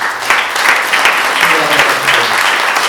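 Loud, dense applause from a sizeable crowd at a French public meeting, many hands clapping continuously and close by, with a faint voice underneath.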